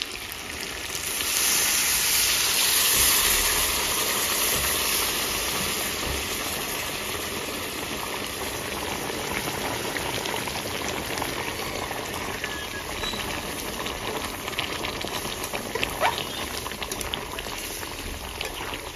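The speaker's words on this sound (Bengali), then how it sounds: "এখন ফুটন্ত গরম জল আমরা দিয়ে দেবো।" Boiling hot water poured into duck meat cooking with young jackfruit sets off a steady, loud, close bubbling and hissing boil that continues unbroken, with no talking.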